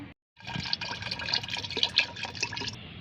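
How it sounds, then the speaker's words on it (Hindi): Homemade lemon peel fertilizer liquid, soaked 48 hours, strained for a mogra (jasmine) plant, running and splashing steadily through a strainer for about three seconds, close and fairly loud, with a few drips and no talking. "इसको हमें छान लेना है।"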